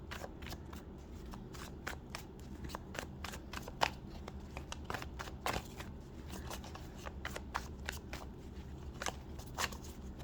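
A deck of tarot cards is shuffled in quick, irregular bursts of crisp riffling snaps that run steadily throughout, close and moderately loud over a low background hum.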